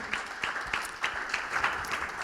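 A church congregation claps and applauds as a sister is called forward to give a testimony, a moderate rhythmic patter of hands with no voices over it.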